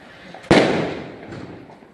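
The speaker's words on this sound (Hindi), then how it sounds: "ये बच्चे पटाखे छोड़ ही रहे हैं" A single sharp firecracker bang goes off during Diwali celebrations, set off by children near a home balcony, loud and close, followed by a long echoing rumble that slowly fades.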